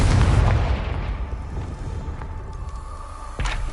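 Confringo blasting spell exploding in the video game Hogwarts Legacy: a loud booming blast at the start that decays into a rumbling tail, with a few faint pops after, no voices.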